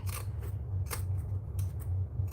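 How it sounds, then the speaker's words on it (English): Zigzag scissors cut through thick fabric in a few separate crunching snips over a low steady hum from a sewing machine. "My poor zigzag scissors."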